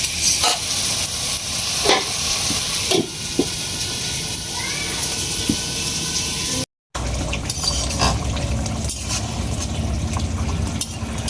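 Curry sizzles in a pan on the stove with a steady close hiss, occasional stirring clinks and one brief dropout.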